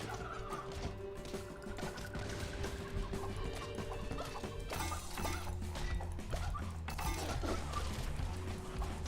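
Creepy chicken creature with toothed lips in the Deathspank video game, clucking and gobbling repeatedly in rhythmic bursts over a game music and ambience bed.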